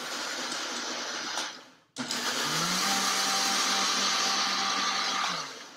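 A Vitamix high-speed blender whirs loudly as it blends soaked cashews into a creamy sauce, cutting out briefly and then restarting for a sustained run before winding down.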